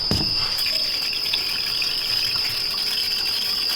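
A spray cleaner from a refillable container blasts a steady hiss of liquid over a car part, a continuous loud jet with a high whine running from start to finish and no voices.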